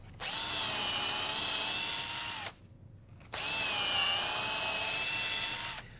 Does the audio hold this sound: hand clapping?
no